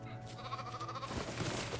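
Sheep bleating in the LEGO Fortnite video game, a short game-animal cry over a busy background of game music and effects.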